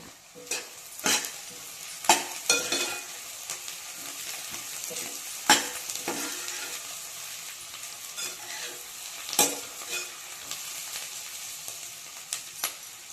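Food sizzles steadily as it fries in a pan, with a spoon or spatula scraping and stirring at irregular intervals; close and moderately loud, with no talking.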